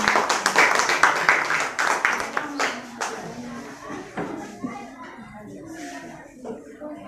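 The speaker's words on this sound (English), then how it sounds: "A resounding round of applause for them." A classroom audience applauds presenters, with brisk dense clapping at the start that thins into scattered claps as voices talk over it.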